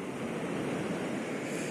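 Sea waves washing onto the shore on a stormy October morning, a dense continuous roar of surf mixed with wind buffeting the microphone, loud and steady throughout with no voices.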